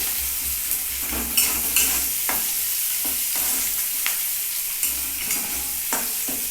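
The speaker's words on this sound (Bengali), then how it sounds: "পেঁয়াজটা একটু লাল লাল করে ভেজে নিই" Onions sizzle in a pan as they fry until reddish-brown for a ridge gourd and poppy seed dish. The steady, moderate hiss is broken by regular scraping strokes of stirring, with no voices.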